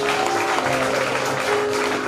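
An audience at a church gathering claps in dense, sustained applause, a steady wash of many hands throughout.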